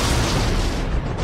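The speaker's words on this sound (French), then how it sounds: "quand elles entendaient des explosions" A loud, sustained explosive roar fills the whole moment, a dense booming blast that thins slightly toward the end, close and heavy with no voices.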